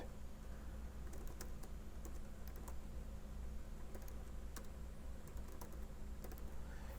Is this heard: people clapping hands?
no